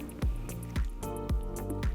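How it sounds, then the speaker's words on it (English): Milk is poured a little at a time into a flour and butter sauce in a pan over a low flame, giving soft, close squishing and dripping liquid sounds in a repeating rhythm. "Gradually pour in the milk,"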